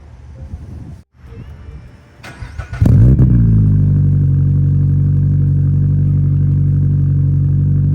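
A 2022+ Subaru BRZ or Toyota GR86 with an aftermarket titanium exhaust cold-starts with a sharp burst, then settles into a loud, steady, deep idle rumble around 700 to 750 RPM that continues without talk.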